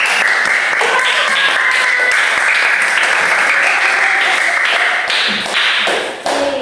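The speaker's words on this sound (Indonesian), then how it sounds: "tepuk tangan kita semua yuk" A school class claps together after the group presentations, loud, dense, sustained applause filling the room with a steady patter before a brief dip and a last burst.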